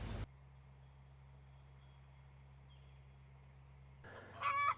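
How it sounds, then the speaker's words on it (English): Chickens in a movable chicken tractor on a swale mound at a permaculture farm give a brief burst of close clucking at the very end, after a long stretch of steady low hum. "Here's our chickens. They're tractoring across this swale mound"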